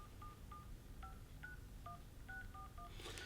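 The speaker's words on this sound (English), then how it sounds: "We're going to call the person now" A telephone being dialed, a quick run of about a dozen dual-tone keypad beeps in an uneven rhythm, moderately clear over a steady low hum, with a brief burst of hiss at the end.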